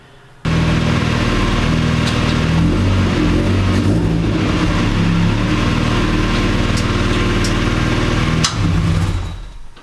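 A Mongrel PT77 kit car's engine fires on its first start-up, then runs loud and steady with rising revs for about eight seconds before cutting off near the end.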